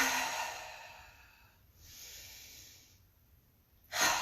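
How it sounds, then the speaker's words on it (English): Breath exhaled slowly during a yoga practice, a soft airy rush that swells, fades, then returns as a sharper, louder exhale near the end, with no talking. "Exhale and drop twice more."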